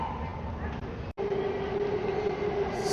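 A bullet train arriving at a station platform in China, a steady low rumble of rolling rail cars with a faint sustained tonal whine, nearby and continuous, and a brief dropout partway through.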